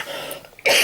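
A person making beaded jewellery coughs once, a sudden harsh throat-clearing cough close to the microphone, after a quiet stretch of faint breathing.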